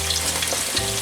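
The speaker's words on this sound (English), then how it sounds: "So we're just gonna cook up this ground beef" Ground beef frying in a pan, a loud steady sizzle with faint stirring scrapes over one second, no voices.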